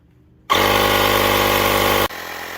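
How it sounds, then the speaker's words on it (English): A battery-powered Ryobi inflator kicks on abruptly and runs with a loud, steady buzzing motor drone for about a second and a half, then cuts off, leaving a quieter hum. "Yeah, that's the Ryobi inflator there"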